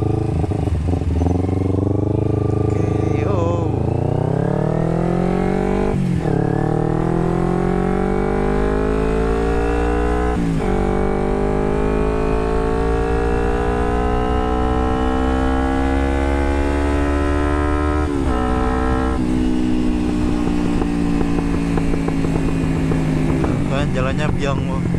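A carbureted Kawasaki Ninja 250 accelerates at full throttle on a road, its engine climbing steadily through the gears in long rising pulls with brief dips at each shift, loud and close, with a rider talking over it.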